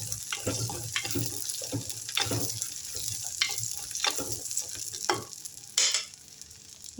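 Small shallots fry with tempering spices for a Sri Lankan-style fish curry, crackling and sizzling close up with repeated scraping stirs and a brief splash of water near the end.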